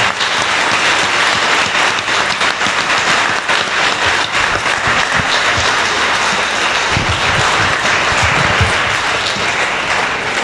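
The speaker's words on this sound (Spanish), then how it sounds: "Fuerte el aplauso a Cristo nuestro Salvador." A church congregation at a Catholic Mass breaks into loud, sustained applause, a thick wash of many hands clapping for about ten seconds, with a few stronger individual claps standing out near the end.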